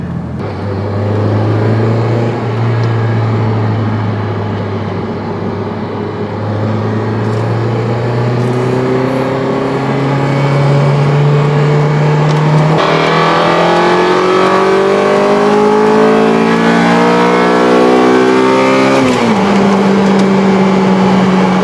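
A Honda Civic Type R FD2's engine revs hard through a corner, its tone climbing steadily, then rising higher before dropping sharply on a lift near the end, loud and continuous from inside the car.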